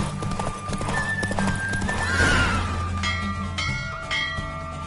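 Roach the horse galloping in a race in The Witcher 3, with rapid hoofbeats, a whinny and a bell chiming, all over game music and ambience.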